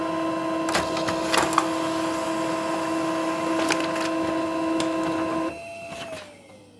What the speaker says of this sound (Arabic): ومثل ما لكم سمعانين شباب تمت الطباعة